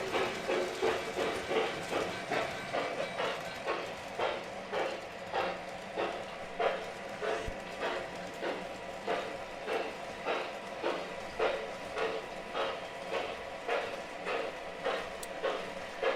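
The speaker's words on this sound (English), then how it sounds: "We're gonna run some trains." Model trains run on a track, a steady rhythmic clicking of wheels over rail joints repeating evenly about twice a second, soft and continuous with a faint hiss beneath.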